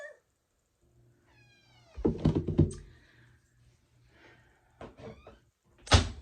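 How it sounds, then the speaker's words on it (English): A dog opens a household door on its own: a high, wavering whine, then a cluster of knocking door thuds and rattles, later a few softer knocks and a final sharp bang nearby. "my dog has figured out how to open doors"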